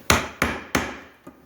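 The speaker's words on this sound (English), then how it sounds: "use your chisel in there, hammer the pinch a little wider" Hammer striking a gasket chisel wedged into a pinch to widen it, three sharp metallic blows at an even pace and then a fourth, lighter tap, each ringing briefly and close by.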